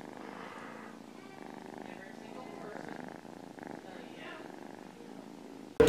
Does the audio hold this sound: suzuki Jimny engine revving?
no